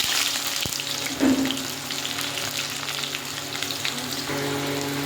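Onion frying in a pan with garam masala, dried red chilli and bay leaf for a thin mutton curry gives a steady, soft sizzle close by, with a few brief clicks and no talking.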